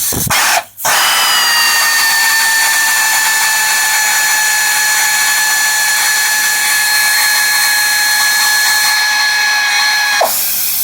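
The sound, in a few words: power tool loosening a bolt on car suspension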